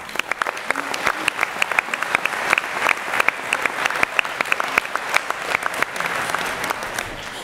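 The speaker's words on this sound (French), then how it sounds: "vous pouvez l'applaudir également." Audience applause at a New Year's wishes ceremony in La Ravoire, France, with many sharp individual claps standing out over a steady wash of clapping that holds for the whole stretch.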